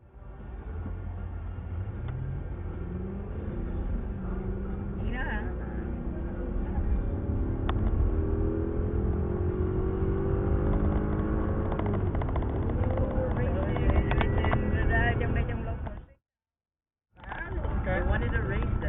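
Audi A8 D3 engine pulled hard through rising revs on an Italian tune-up drive, a loud continuous drone climbing in pitch with gear-change steps, a brief dropout near the end, then resuming.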